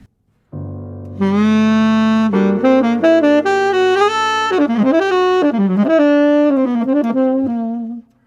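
Sustained notes run up and back down a melodic minor scale over a low held drone, ringing clearly and alone before stopping.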